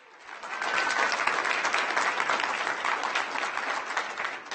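Audience at a county board of supervisors meeting breaking into steady applause that swells quickly and holds loud and dense for several seconds, a crowd of clapping hands with no clear voices.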